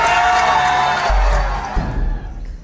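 A loud crowd gathers outside the Fashion Bug clothing store in Sri Lanka, its angry shouting and roar sustained and dense throughout before easing slightly toward the end.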